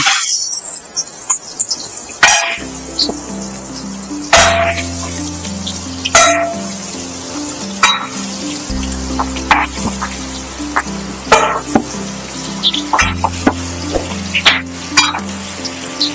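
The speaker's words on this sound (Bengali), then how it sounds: "এবার ডিমগুলো আমি ভাজার জন্য কড়াইতে দিয়ে দেব।" Eggs crackle and sizzle as they fry in hot white oil in a wok, with a continuous spitting hiss, sharp pops and a few louder bursts over a low steady hum.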